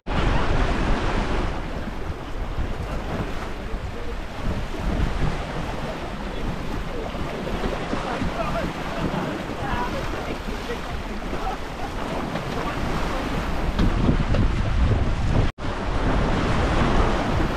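Continuous rush of wind and water against a Maverick Sadler 25 sailboat on Loch Lomond, loud and steady throughout, with heavy wind noise on the microphone and a brief dropout near the end.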